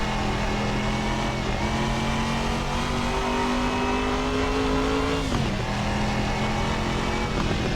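A loud classic car engine revs in the Assetto Corsa racing game with a Pessio Garage mod car, a continuous drone climbing steadily in pitch before dropping sharply at a gear change, then climbing again, with no talking.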